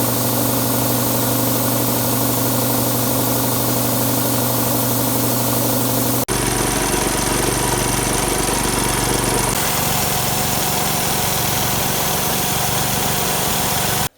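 A gas-powered 6.5 horsepower air compressor runs with a steady droning engine chug, loud and close, and its tone shifts abruptly partway through as the load changes; no one speaks.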